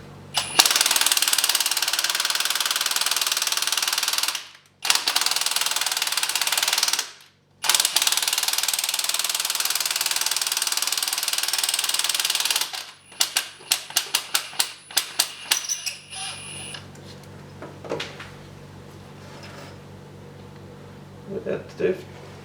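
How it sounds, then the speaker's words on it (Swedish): A nut runner on its lowest setting loosens 10 mm glow plugs on a VW Caddy 1.9 TDI, giving loud sustained whirring bursts broken by brief pauses, then a run of sharp ratcheting clicks and taps. "Då kör vi min muttermaskin här på lägsta"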